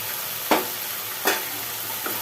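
Spices stirred into okra, potato and chickpeas frying in a pan, a soft continuous sizzle broken by three distinct spatula scrapes, close and unaccompanied by speech.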